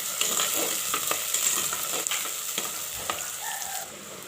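Onions and curry leaves sizzle steadily in a hot pan while a utensil stirs and scrapes through them, with crackling bursts throughout.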